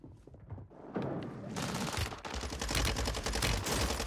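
Rapid automatic gunfire in the Warzone video game on Rebirth Island, loud sustained bursts of shots building into a dense fusillade after a quieter opening.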